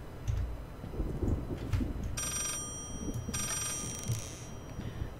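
A telephone rings in the horror video game Layers of Fear, two bright electronic bursts over a heavy low rumbling ambience with thudding, no talking.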